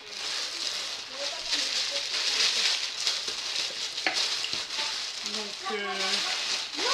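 Crinkly rustling of a plastic package bag being handled, continuous and close, with someone talking over it.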